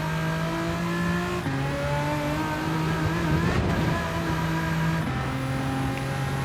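A tuned 2002 Renault Avantime 3.0 V6 24V, pushed to almost 500 hp in Gran Turismo 7, accelerates hard in a straight line, its engine note steady and loud, dropping briefly at each gear change before climbing again.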